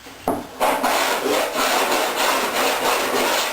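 Rhythmic scratchy strokes of sandpaper worked by hand over faired fiberglass seams, steady back-and-forth rasping at close range with no talk.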